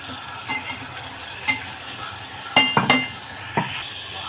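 Onion and tomato sautéing in hot oil for a mandeli fish curry, a steady sizzle broken by spoon strokes and several sharp metallic clinks against the pan, close and with no voices.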